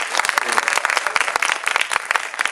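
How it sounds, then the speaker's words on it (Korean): Audience at a film screening talk applauding for actress Yeon-ok, a brief burst of many hands clapping close and steady. "여러분들 연옥 배우님에게 많은 응원의 박수 한번 부탁드립니다"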